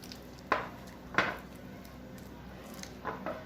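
Rum chocolate ingredients being stirred in a bowl, with a few sharp spoon-on-bowl clinks spread over quiet scraping, fairly faint and close.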